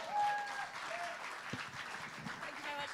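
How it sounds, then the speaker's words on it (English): An audience at a live show at The Bedford applauds steadily for a performer, a dense, even wash of clapping that holds for about three seconds with a brief swell at the start. "ladies and gentlemen, give her a big round of applause"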